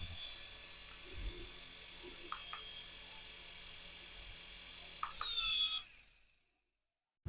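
A remote-control toy helicopter's motor and rotor mechanism gives a steady, close, high whine with a faint ratcheting texture. It runs for about five seconds, winds down abruptly and falls to silence.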